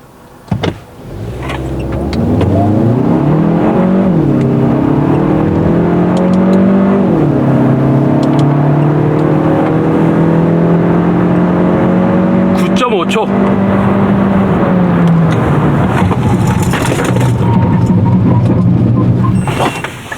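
A Kia Sportage 1.6 turbo with all-wheel drive accelerates hard from a standstill toward 100 km/h, its engine note climbing loudly and steadily with audible gear shifts, heard close up from inside the cabin.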